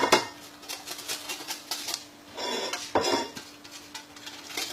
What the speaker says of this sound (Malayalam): ഇങ്ങനെ ഗ്രൈൻഡ് ചെയ്യാം മുഴുവൻ ജിഞ്ചറും